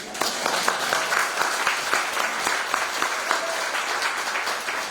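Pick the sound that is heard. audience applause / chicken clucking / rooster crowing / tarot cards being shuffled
audience applause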